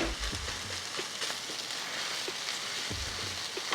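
Cooled, dry fresh rice being stir-fried with chicken in a pan, broken up with a spatula: a steady close sizzle with scraping and clacking strokes at irregular intervals.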